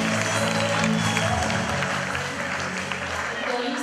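Applause at a high school freshman ball, a steady dense wash of clapping from a crowd in a hall, with music or tones running underneath.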